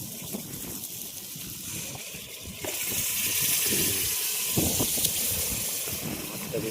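Water pours into a hot pan of fried dal masala for a curry, a sudden loud hiss and gush of steam rising partway through and continuing, with talking heard beneath the sizzle.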